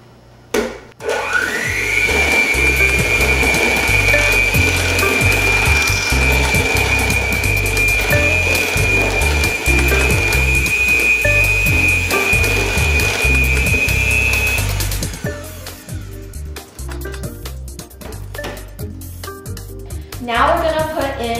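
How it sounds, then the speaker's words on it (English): An electric mixer creams the wet ingredients for banana bread, running as a loud, steady whine for about fifteen seconds before it stops and lighter clattering follows, with someone talking over it. "now we're going to cream together our wet ingredients"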